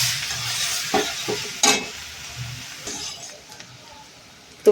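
Chopped onion frying in butter with a spoon stirring it, giving a soft steady sizzle broken by scrapes and clinks against the pan, plus one sharp knock at the end.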